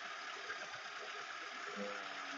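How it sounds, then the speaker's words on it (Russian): A Volkswagen Golf 2 engine settles at idle after the warm-up phase, giving a steady mid-pitched hum with slight unevenness, heard close and alone for a few seconds. "Сейчас мотор скинул обороты."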